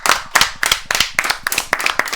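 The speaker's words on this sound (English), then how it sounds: "can we quickly give a round of applause for Wolfie winning on LAN?" A small group clapping briefly at a Rocket League LAN esports event, a quick run of sharp, close hand claps in a loose rhythm lasting about two seconds.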